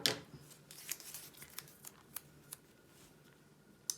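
Scissors snip through washi tape during the framing of a layered 3D diamond painting, with a crisp tearing-like cut up front and several faint, sharp snips spaced out at close range in a quiet room.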